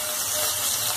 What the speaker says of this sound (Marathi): कांदा छानसा परतू द्यायचा.